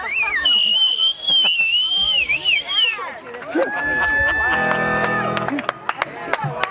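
At a wedding celebration, a loud, sustained high whistle wavers and slides in pitch for a few seconds, then gives way to a steadier whistled tone amid crowd noise and claps.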